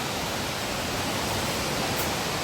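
A creek on the Laurel Falls trail rushes steadily, a dense, even hiss of flowing water close by with no voices.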